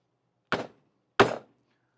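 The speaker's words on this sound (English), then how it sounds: "let's see if I can get this in one swing of a hammer" A hammer drives a nail with two separate swings: two sharp, close, solid knocks about 0.7 seconds apart, each ringing briefly with no other sound around them.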